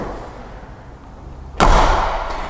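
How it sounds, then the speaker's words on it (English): A 1971 Mercedes L206D van door slams shut with one loud, close metallic bang after a stretch of quiet idle rumble, then a faint click as the latch settles. "If you listen to a Mercedes van or Mercedes car, they have a really prominent sound when you open and close their door."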